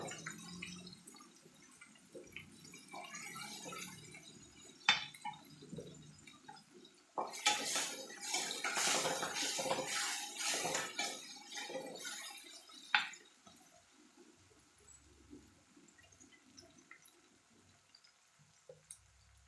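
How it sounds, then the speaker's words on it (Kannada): Hot water poured into a pan of softened onions while cooking uppittu, a soft running splash with clinks of utensils and dishes, louder in the middle stretch, with no talk. "ಇವಾಗ ಬಿಸಿ ನೀರನ್ನು ಕಾಯಕ್ಕಿಟ್ಟಿದ್ದೆ, ಅದನ್ನು ಇದಕ್ಕೆ ಹಾಕ್ತೀನಿ"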